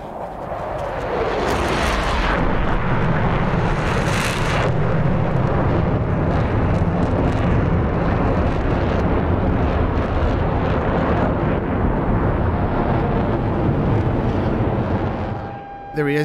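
An SU-27 Flanker jet roars steadily while being thrown through hard maneuvers in DCS World, a loud continuous engine and wind rush with swelling surges early on, fading slightly at the very end.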